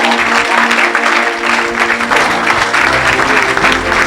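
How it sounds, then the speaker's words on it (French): A congregation applauds for Jesus during a lively French-language church service, sustained loud clapping filling the room with music playing underneath. "Somebody clap for Jesus."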